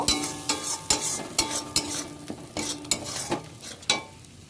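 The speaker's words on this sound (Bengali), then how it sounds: "একটু জল দিচ্ছি ভালো করে কষিয়ে নেওয়ার জন্য" A spatula stirs a potato, pointed gourd and soya chunk curry sizzling in a pan after water is added, steady scraping strokes about every half second over soft frying hiss, close and quiet.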